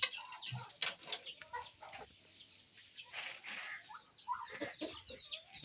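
Aseel chickens, Amroha breed, cluck in short, irregular bursts close by, several birds chattering over one another with brief quiet gaps.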